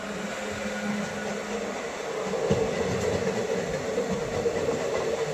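A non-stop intercity express train passes at speed on an Indian railway line between Gwalior and Etawah. It makes a loud, continuous rumble and rattle of wheels and carriages that grows heavier midway, with no speech.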